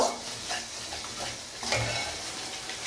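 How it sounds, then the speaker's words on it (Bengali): Spice paste with homemade sour yogurt fries in hot oil while being stirred steadily, with a continuous close sizzle and intermittent scraping strokes in the pan, no voices. "এবার আমরা মশলাটাকে ভালো করে কষিয়ে নেব"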